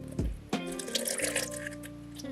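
Room-temperature water pours into bread dough ingredients for a homemade baguette, a close splashing stream with a gurgling onset, then steady trickling and drips.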